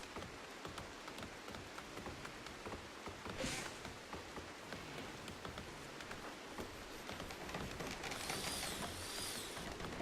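Steady, faint patter of rain falling in the video game RimWorld, with a soft even hiss running throughout and brief brighter bursts near the middle and toward the end.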